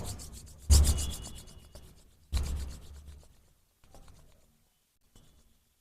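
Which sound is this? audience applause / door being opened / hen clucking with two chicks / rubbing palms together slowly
rubbing palms together slowly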